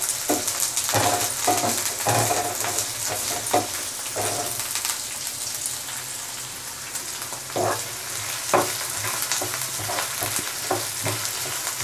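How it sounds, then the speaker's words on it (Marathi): Onions sizzle in oil for matar paneer, a dense nearby crackle carrying on without pause, with intermittent spatula knocks and stirring strokes throughout. "या तेलामध्ये कांदा छान परतून घ्यायचा आहे."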